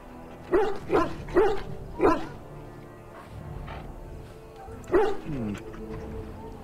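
Several war dogs bark in Dragon Age Origins, with four quick loud barks in a row followed by a pause and one more bark, clear and close over low game ambience.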